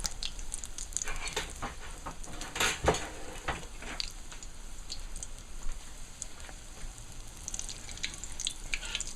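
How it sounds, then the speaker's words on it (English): Steady sizzling and crackling of a fish cake frying in a hot pan, with dense broadband spitting and a few sharper pops, close and continuous. "So right now it's frying."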